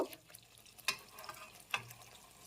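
Cauliflower with yogurt and spices is stirred in a pan, giving faint soft sizzling broken by a few scraping strokes of the spoon, two of them noticeably sharper.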